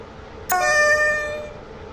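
A passenger train's horn sounds once, loud and close, as a single sustained toot that fades over about a second, with no talking.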